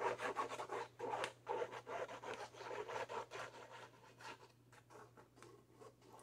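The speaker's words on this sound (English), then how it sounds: "I'm going to trowel it on. I'm going to mix it with the trowel." Palette trowel spreading and mixing thick paint paste, repeated scraping and rubbing strokes in an uneven rhythm, close and moderately loud over a low steady hum.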